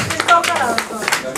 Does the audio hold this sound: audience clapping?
yes